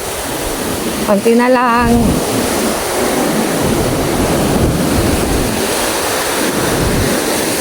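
Sea waves wash and slap around a small fishing boat in choppy water, with steady loud surf and wind noise throughout and a person speaking briefly over it.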